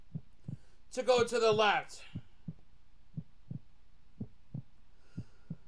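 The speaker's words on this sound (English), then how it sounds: "I still hear the heartbeat." A slow, soft heartbeat thumps steadily in the horror video game Creepypasta Museum, faint low pulses continuing throughout while someone briefly speaks over it.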